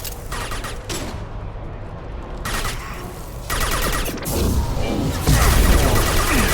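Submachine gun in Mass Effect 2 firing in rapid bursts, loud and dense, with crackling shots, impacts and game effects layered over a continuous low rumble, growing heavier toward the end.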